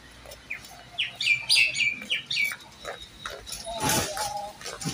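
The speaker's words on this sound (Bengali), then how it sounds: "পাখির কিচির মিচির ডাক" Birds chirp and tweet outside a house, bright rapid calls in clusters near and fairly loud, with a brief animal bleat and low background noise from the surroundings.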